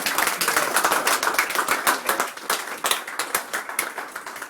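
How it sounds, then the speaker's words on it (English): Audience applause at a fundraiser, a crowd of hands clapping with distinct sharp claps that stay loud and then thin slightly toward the end. "let's just give David a round of applause"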